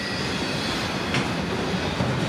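Freight train number 106 rolls past at close range, a steady broadband rumble of wagons and wheels filling the whole stretch, with a brief brighter rise midway and no voices.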